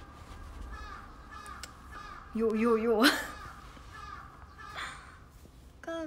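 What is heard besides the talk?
crows cawing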